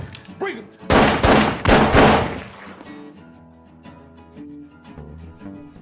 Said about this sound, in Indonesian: Jack kemudian masuk kembali ke dalam rumah dan menembak Kenneth